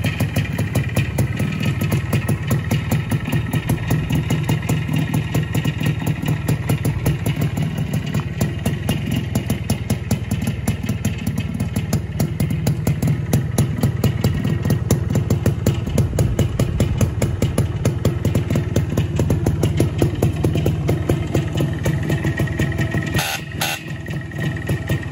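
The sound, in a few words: Minsk MMVZ motorcycle engine idling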